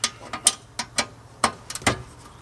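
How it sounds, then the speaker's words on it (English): A screw is loosened in the dashboard of a 1999-2007 Chevrolet Silverado, giving a string of quick, close ratcheting clicks in an irregular rhythm with no voices. "I know I've got a screw right here I've got to loosen."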